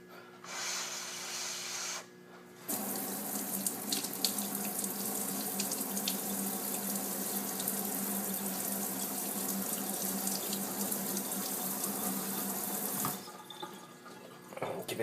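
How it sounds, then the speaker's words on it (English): A tap runs steadily while an Innokin iClear 30 coil head is rinsed under it to wash off ash residue, in a bright continuous rush framed by brief quieter moments at the start and end. "we're going to rinse it again and get off all that ash residue on there"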